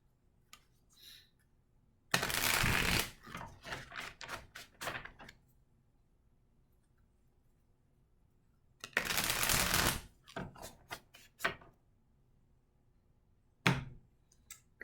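Tarot cards being shuffled: two loud riffle bursts about seven seconds apart, each trailed by a quick series of soft taps and slaps as the deck is squared, with a final tap near the end, otherwise quiet.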